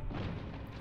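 Grenade blast in the Spec Ops: The Line shooter, a dense, close, heavy rumbling boom that fills the whole short moment with low-end roar.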